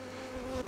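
Honeybees buzz steadily beside a hive during beekeeping work, a close, continuous droning hum with no talk over it.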